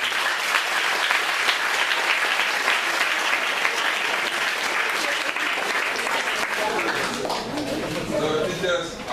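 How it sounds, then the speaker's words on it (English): Students in a Liberian audience applaud their teachers at a youth motivation event, with loud, dense clapping that runs throughout and thins slightly toward the end as scattered voices and cheers rise. "student, clap for your teachers"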